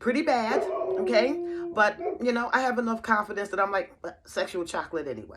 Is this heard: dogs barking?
yes